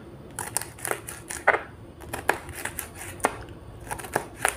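Knife finely slicing green capsicum on a board: a run of about eight crisp, evenly spaced cuts, close and clear with no talk.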